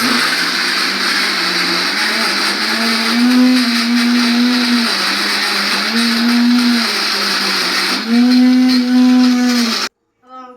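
A mixer grinder powders jaggery with a loud, steady motor whine whose pitch rises and dips in pulses for about ten seconds before it cuts off abruptly.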